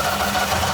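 An old car engine, freshly repaired and full of carburetor cleaner, runs with a steady, loud mechanical drone and rough vibrating hum, close and continuous with no talk.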